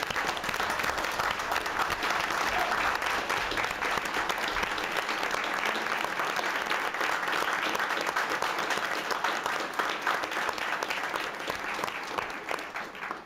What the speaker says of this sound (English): you deserve a fantastic round of applause for what you're doing